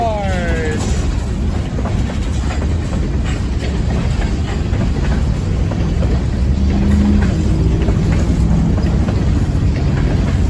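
ELS 402/502 freight train with box cars rolls north through Iron Mountain, a loud continuous low rumble and clatter of wagons going by, with a horn-like tone at the start and a voice talking faintly underneath.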